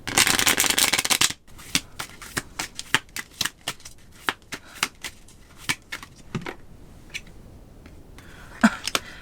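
Tarot cards are shuffled for a pick-a-card reading, first a dense riffling burst, then a series of separate crisp snaps and slaps at an irregular pace, close and alone.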